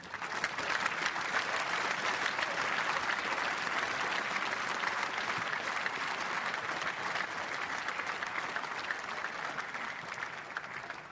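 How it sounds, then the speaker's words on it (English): Sustained applause from a squash audience at the 2010 Canary Wharf quarter-final between Palmer and Gaultier, an even, continuous crowd clap held for about eleven seconds without pause. "I think they both deserve another round of applause"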